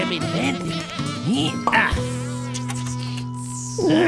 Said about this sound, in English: That bee has been driving me crazy loco for days.